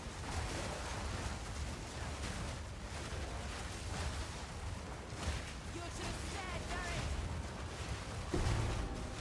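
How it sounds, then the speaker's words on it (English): Explosions aboard a ship in a video game, a steady rumble of bursts and booms throughout, with a louder blast near the end, partly under a voice talking. "Random explosions on a ship."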